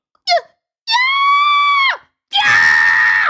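A voice imitates cartoonish character screams: a short yelp, then a long, high sustained shriek, a pause, and a final rough, strained scream, all loud and close.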